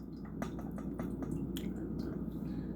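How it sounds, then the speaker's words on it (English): Cherry juices drain through a colander into a saucepan with faint, steady trickling and scattered soft drips and squishes. "I'm gonna let all the juices run into my saucepan"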